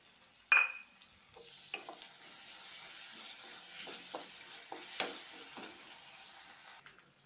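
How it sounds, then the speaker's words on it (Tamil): Ginger garlic paste fries and is stirred in a pan for parotta salna, giving a soft steady sizzle with scattered spoon scrapes and a sharp clank near the start. "இப்போ நம்ம இந்த இஞ்சி பூண்டு பேஸ்ட்டை இதோட ஆட் பண்ணிடலாம்"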